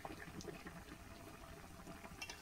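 A fish and yam stalk curry bubbles steadily in a pot, a faint, continuous close simmer with no voices.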